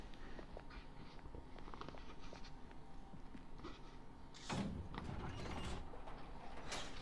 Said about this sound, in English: enter the elevator immediately on your right. I'm going to ride it up to the second floor